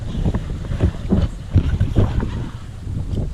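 A sailboat under way in the wind near Boca Grande, heading for Sanibel, with loud buffeting wind rumble and gusting noise against the microphone, plus water movement throughout.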